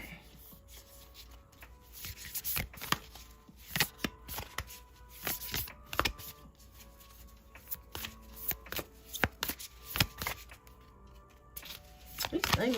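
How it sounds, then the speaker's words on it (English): Tarot cards are shuffled repeatedly, making irregular riffling and rubbing bursts that stay close and crisp over a quiet background. "These things are so difficult to shuffle."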